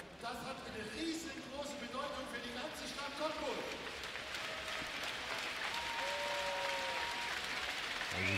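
A packed indoor athletics arena holding about 1,500 spectators, with a sustained crowd roar and applause at a high jump meeting under a commentator's voice.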